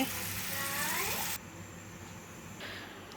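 Coconut milk is poured into a chickpea curry, first a loud gushing sizzle that stops abruptly, then a gentle bubbling simmer in the pan.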